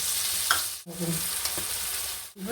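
Spice paste hitting hot oil in a pan for a lentil-fritter and aubergine curry, a loud crackling sizzle broken by two sharp pauses, with faint stirring scrapes and no talk.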